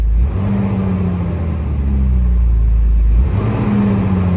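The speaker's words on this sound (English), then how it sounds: "So let's crank it and see what we get. So started right away, so we know the fuel pump's running." A car engine cranks and fires up during a home compression test, then idles with a loud, steady low rumble that briefly dips and surges again near the end.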